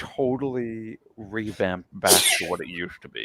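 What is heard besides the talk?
person sneezing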